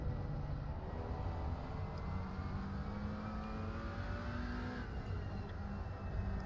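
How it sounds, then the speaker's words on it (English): A race car sweeps past during an Assetto Corsa Competizione endurance race at Spa, a steady loud engine drone with a pitch glide, layered over continuous engine roar from the field. "There's a car passing by."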